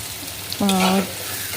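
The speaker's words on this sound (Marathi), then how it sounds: "तेलावर फ्राय करून घेतलं आणि त्यामध्ये वांगी टाकून घेतली" Ground masala paste fries in oil in a pressure cooker with a steady close sizzle, broken by a brief tonal squeak or whistle lasting under half a second.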